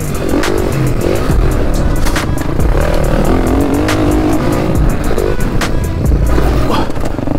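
Loud engine of a YCF motorcycle, the brand's most powerful model, revs hard while being ridden, with repeated throttle blips, rising and falling pitch and constant wind and road rumble close to the rider.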